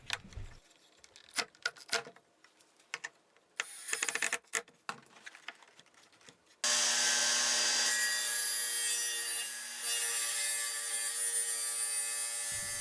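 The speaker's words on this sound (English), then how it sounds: "I'll clamp it down and take it over to the table saw" A table saw cuts scrap wood with a tapering jig: first scattered clunks and rubs of wood being positioned, then the saw spins up into a loud, steady whining roar with a brief dip as the blade cuts.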